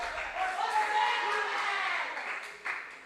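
Applause from the audience at a junior science and maths quiz regional qualifier in the Ashanti Region, sustained and fairly steady, with crowd chatter mixed in throughout.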